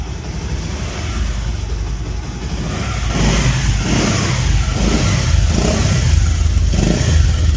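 A Bajaj Pulsar motorcycle engine runs close by, its rumble swelling as the throttle opens partway through and holding at a louder, rougher level.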